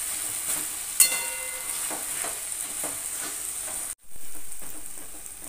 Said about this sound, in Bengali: রসুন এবং কাঁচা লঙ্কার পেস্ট দিয়ে ভালো করে আবার একটুখানি কষতে থাকবো